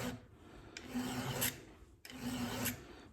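A square file rasps across the cutters of a chisel-type chainsaw chain, two close, even back-and-forth strokes, each a gritty scrape rising to a bright squeal at the end.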